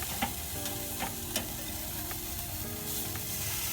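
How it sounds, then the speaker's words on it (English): A burger patty sears on a hot grill, giving a soft, continuous sizzle with a few faint pops and ticks throughout. "just put it right on here and let that sear good"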